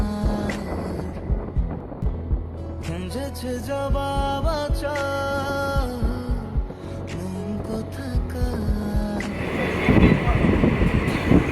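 Hazarduari Express passenger train running between Lalgola and Kolkata, heard from a window seat: a continuous rumble with clattering wheel rhythms, rattles and rushing wind, growing louder and noisier toward the end.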